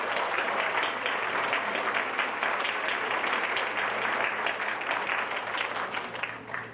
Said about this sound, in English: give a round of applause to your parents and all the relatives that are here